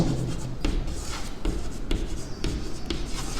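Pen scratches across paper during a geometry lesson, close continuous writing strokes with short pauses between words.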